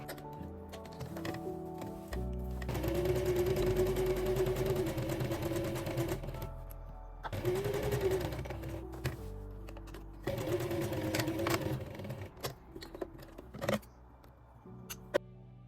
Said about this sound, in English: Top stitch the pocket opening at 1 centimeters from the edge to enclose the seam neatly.